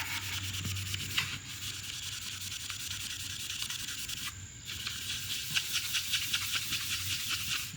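A magic eraser scrubs a Yamaha boat seat in quick, steady, close strokes, giving a continuous soft hissing rub.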